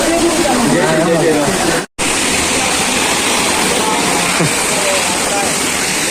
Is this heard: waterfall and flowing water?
yes